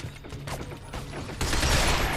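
Rapid gunfire from the Binary Domain shooter, aimed at a robot, with a burst of crackling shots and mechanical clatter building to a dense, loud volley in the last second.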